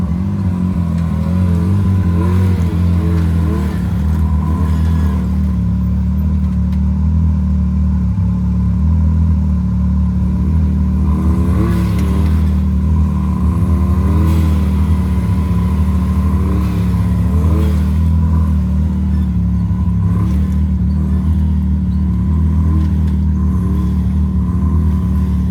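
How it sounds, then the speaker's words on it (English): An RC car on System3 RC500 sticky tires revs hard and spins its wheels in a burnout, a loud, continuous buzzing motor whine that rises and wavers throughout, close by and with no talking. "Need to get a good burn down on these RC500s."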